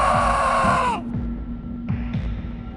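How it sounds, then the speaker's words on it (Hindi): In a Hindi animated horror cartoon, a loud drawn-out scream echoes through a haunted mansion, cutting off after about a second and leaving a lingering reverberant tail over a low, pulsing musical drone. "आकाश के चीखने की आवाज पूरे हवेली में गूंज उठी"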